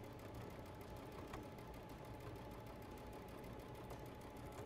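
A sewing machine stitching a quilt block into a clutch, running in a steady, continuous rapid whir at close range without pauses.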